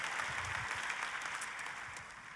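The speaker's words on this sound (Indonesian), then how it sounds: "Tepuk tangannya lebih dahsyat lagi buat Yesus Tuhan kita" A church congregation applauds, a continuous wash of many hands clapping at once, heard faintly and from a distance with no speech over it, tapering slightly toward the end.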